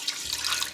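Water pouring into an Instant Pot, a short steady splashing stream with bright hiss, close and alone for under a second.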